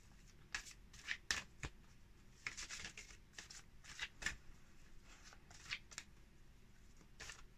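Cards shuffled by hand, a quiet close sequence of short riffling bursts and soft flicks repeating irregularly with small gaps between them.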